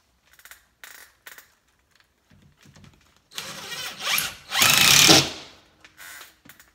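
A power drill drives screws into a man cave build, with a few short clicks and taps before two longer whirring bursts, the second loud and close, followed by small handling knocks.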